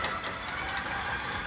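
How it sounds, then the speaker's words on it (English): An electric mixer running on speed 6 beats butter, sugar and orange zest in a steady, unbroken mechanical whir, moderately loud and close, with no voices. "I'm just going to get it in the mixer with the butter and the sugar. And then keep that going on 6"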